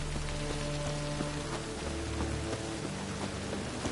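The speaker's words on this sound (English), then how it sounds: "Rain again." Rain falling in the video game The Witcher 3, a steady hiss of rainfall with low sustained tones and scattered soft taps underneath.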